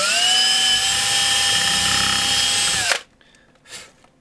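A power drill bores a hole in a bench power supply case with a loud, steady high whine for about three seconds, then stops abruptly, leaving a short quiet tail with a brief clatter.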